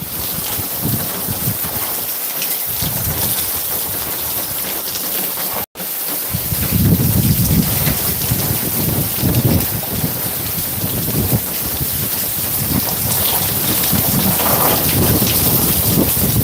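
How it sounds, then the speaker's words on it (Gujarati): Heavy rain falls during a thunderstorm with frequent lightning in Dhari taluka, a loud, constant downpour with deep rolling thunder rumbling underneath and a brief dropout partway through. "વીજળી સતત થાય છે આબમાંથી"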